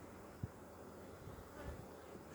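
Honeybees hum faintly and steadily in an opened hive during a spring inspection, with a couple of soft knocks against the frames and no talk.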